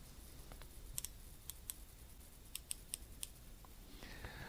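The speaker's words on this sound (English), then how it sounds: "Look at the drag adjustment. Micro click everything." The drag knob on a Daiwa Ryoga Shrapnel baitcasting fishing reel is turned, giving a quick run of faint, crisp micro clicks up close against a quiet background.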